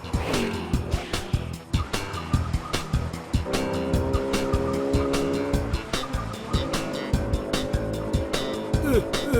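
A cartoon scooter races after a jeep, with loud revving engines, squealing tires and skids in quick bursts, layered over animated chase sound effects.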